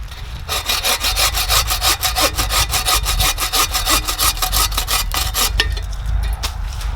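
Bucksaw cutting through wood, a fast steady rhythm of rasping push-pull strokes, close and loud, slowing and fading near the end.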